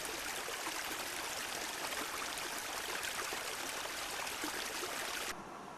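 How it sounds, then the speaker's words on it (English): The river Llynfi flows steadily near Maesteg, a constant broadband rush of stream water that stays even throughout and softens slightly just at the end. "the river Llinvi runs clean and pure."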